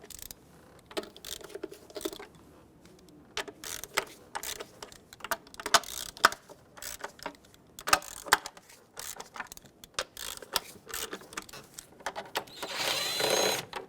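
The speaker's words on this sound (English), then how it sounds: "I'm going to work my way from the outer bolts to the inner bolts, just breaking them free" A ratchet or tool loosens the upper intake bolts on a Dodge Grand Caravan engine, producing bursts of clicking and metallic rattling, with irregular close clatter and a louder whirring stretch near the end.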